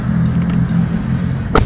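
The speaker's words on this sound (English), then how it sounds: "this car is really loud." Car interior while driving, a loud, steady low road and engine rumble filling the cabin, with a brief sharp click or rattle near the end.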